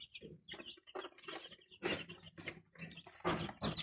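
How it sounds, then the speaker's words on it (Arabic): Eight-day-old hybrid baladi chicks feed at close range, with a busy, continuous stream of high peeping chirps and soft pecking that rises and falls throughout. "الفراخ دي يا جماعة جميلة جميلة جدا"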